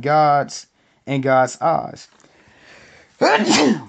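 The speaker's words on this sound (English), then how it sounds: "So I'm sorry, family, I sneezed." A man lets out one sharp, loud sneeze at the end of a stretch of preaching, right after speaking in a sermon setting.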